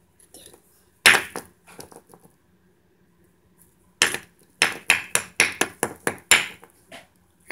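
A hammer chips at a geode, giving sharp ringing strikes, a few scattered at first, then a quick series of eight or so close, loud knocks after a short pause.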